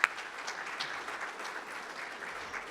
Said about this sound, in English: And can we give a round of applause for our hospital?